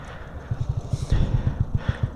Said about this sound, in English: this is what a warm start will sound like